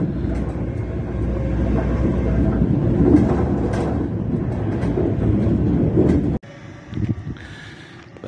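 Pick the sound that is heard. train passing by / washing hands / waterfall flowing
train passing by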